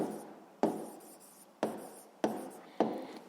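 Pen writing in a notebook during a sixth-grade maths lesson: four short scratchy strokes, each starting sharply and fading, spaced about a second apart, close and quiet with no talk.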